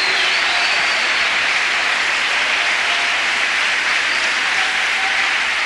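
Sustained, dense applause from a church congregation fills the whole stretch at a loud, even level, with no pauses.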